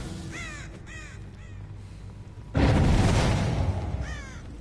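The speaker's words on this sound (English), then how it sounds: "Oh my god, crows." Crows caw repeatedly in a Dead by Daylight match, several harsh calls in a loose series, then a loud burst of noise swells under them before one more caw rings out near the end.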